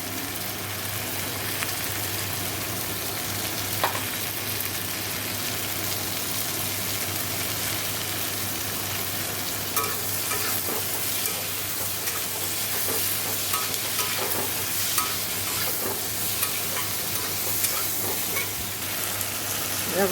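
Vegetables seasoned with salt fry and get stirred in a pan, giving a loud continuous sizzle with frequent scraping and clattering of a spatula over a steady hum.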